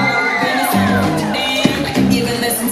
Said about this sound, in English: Scream and shout for Skyler